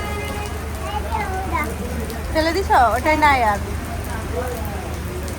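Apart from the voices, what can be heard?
heavy rain falling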